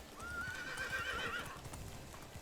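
A horse in the medieval survival game Medieval Dynasty gives a long, bright whinny over the steady patter of galloping hooves, close and fairly loud, with no talking.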